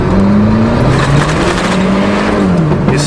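An Aries turbo wagon engine pulls at half throttle on gravel, a loud steady drone with a rising and falling engine tone and a rough crunch from the tires underneath.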